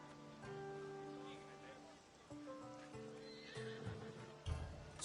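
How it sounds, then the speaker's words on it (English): Horse in the Assassin's Creed Odyssey video game, whinnying in loud tonal bursts over steady clip-clopping hooves, with someone talking across the sounds. "It's a very nice horse."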